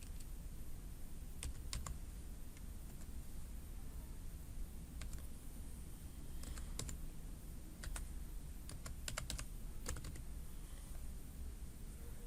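Steady typing on a computer keyboard, with quick irregular key clicks in small bursts over a faint background hiss, close but quiet, no talking.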